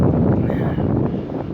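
Strong wind with beginning snowfall buffets the microphone in a loud, continuous low roar with gusty swells.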